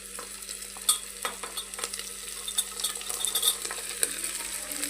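Tomato, carrot, beans and peas stir-frying with onions in oil for vegetable pulao, a continuous soft sizzle with scattered ladle scrapes and clinks against the pan, close and moderately quiet.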